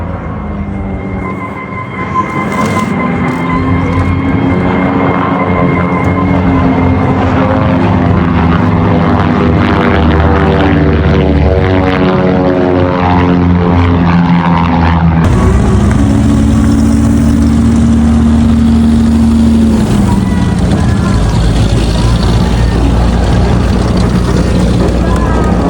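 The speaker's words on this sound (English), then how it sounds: "demonstrated during this display by this twin-turboprop aeroplane with two Garrett T-76" A twin-turboprop aeroplane with two Garrett T-76 engines performs at an airshow, its loud, steady propeller drone holding throughout with a rising and falling pitch as it passes, and no talk over it.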